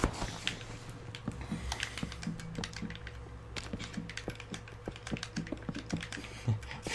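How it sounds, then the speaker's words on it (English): Rapid plastic clacking of game controller buttons during a Minecraft session, a steady stream of small close taps with no talk. "I'm very aware of my clacking on the controller."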